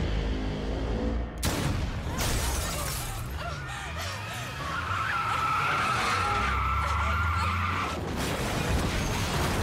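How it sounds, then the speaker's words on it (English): A car skids and crashes in a film scene, starting with a sudden loud impact, then shattering debris, tire squeal and a long scraping slide. The sound stays loud and close throughout, with no talking. "How much of this film's budget just got spent on that car crash?"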